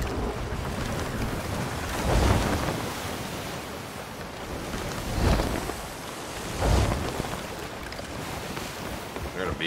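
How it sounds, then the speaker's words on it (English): Ocean waves in Sea of Thieves roll and surge around a sailing ship, with broad whooshing swells building about every three seconds over steady wind and water noise. "These waves are getting kind of wonky."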